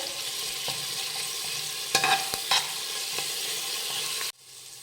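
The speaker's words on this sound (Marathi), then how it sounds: "मिरची थोडीशी परतून घेऊयात" Steady frying sizzle of green chilli paste in a pan with occasional spoon scrapes and stirring clatter, close by, cutting off abruptly near the end.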